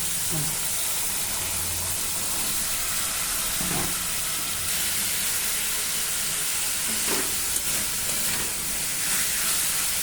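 Boiled chickpeas for Bengali ghugni are frying with spices in a pan, giving a steady sizzle and hiss with a few scraping stirs throughout, close and moderately loud.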